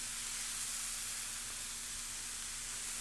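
Oxtail pieces sear in a hot pan, producing a steady, even hiss of sizzling fat that stays constant and moderately quiet with a faint low hum beneath.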